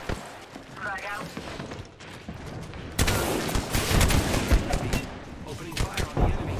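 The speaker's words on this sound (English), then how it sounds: "Opening fire on the enemy." Rapid bursts of gunfire in the Apex Legends battle royale shooter, dense and loud in the second half, with a player talking over the shots.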